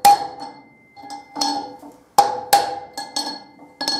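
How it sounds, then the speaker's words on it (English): Hammer driving a new wheel bearing into a motorcycle wheel, a series of sharp metallic knocks at an irregular pace, some ringing briefly. "It's the bounce in the hammer."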